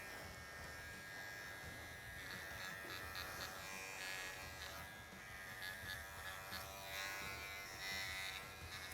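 Electric dog clippers fitted with a 40 blade buzz steadily while shaving a standard poodle's feet, a constant close motor hum with slight changes in pitch as the blade moves.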